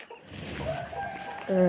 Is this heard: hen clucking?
yes